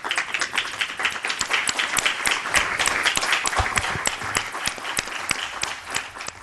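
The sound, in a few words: applause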